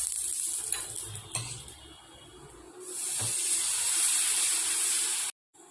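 Gola ruti, a Bengali breakfast flatbread, frying in a pan with a little oil and ghee: a steady close hiss and sizzle that swells louder partway through, then cuts off abruptly near the end.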